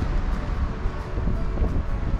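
Strong wind at the Grand Canyon North Rim buffets the microphone, making a continuous low roaring rumble that gusts a little louder and softer, with no voices.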